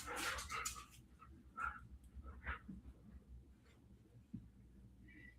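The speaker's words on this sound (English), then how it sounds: "This is my pet. Her name's Nala. She's a Dutch Shepherd, so she's a cool dog." A Dutch Shepherd dog gives a few short barks followed by soft whimpers and yips, fairly close in a quiet room.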